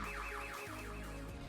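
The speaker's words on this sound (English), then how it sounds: "use the keys to turn on the car alarm and scare the thief away" A car alarm wails in a repeating rising-and-falling siren pattern, several quick sweeps in a row, steady and fairly faint, with no talking.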